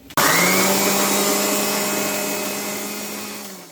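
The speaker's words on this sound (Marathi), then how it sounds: "मिरची, कोथिंबीर, पुदिना, लसूण असं सगळं आपण एकत्र करून मिक्सरला लावून घेऊयात" A mixer grinder blends green chutney of chilli, coriander, mint and garlic, starting abruptly and running as a loud, steady whir that eases slightly over several seconds.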